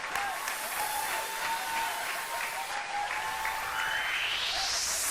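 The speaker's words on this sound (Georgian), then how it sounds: "აპლოდისმენტებით გავაცილოთ და ასევე შევეგებოთ აპლოდისმენტებითვე გიორგი" Studio audience of a Georgian television show applauds, steady dense clapping at moderate level that carries evenly from start to finish with no voices over it.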